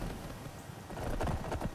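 A horse's hooves clip-clop on the ground in the Skyrim video game, a run of fairly close, even footfalls that grow a little louder toward the end, with no talking.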